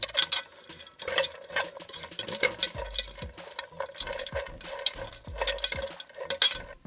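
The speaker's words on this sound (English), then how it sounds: "We keep stirring the pot so that they will roast evenly." Raw cocoa beans being stirred in a pot as they roast, a close, quiet scraping and rattling with irregular strokes and occasional dull knocks of the utensil against the pot.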